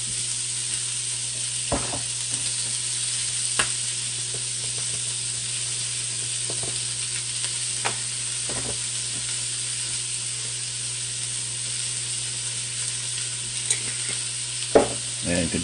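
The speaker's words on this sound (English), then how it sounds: "we're going to saute that for about 5 minutes, guys, until the onions are glistening" Onions sauté in a pot for an oxtail stew, giving a steady bright sizzle throughout, with occasional soft scrapes and clicks of stirring and no voices.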